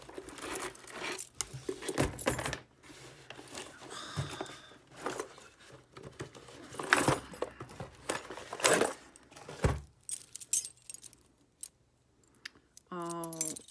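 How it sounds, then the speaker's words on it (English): A lot of old metal keys being handled and jangled while a box of supplies is unpacked, close up, with irregular clinks and rattles mixed with rustling and brief bits of talk. "Old keys."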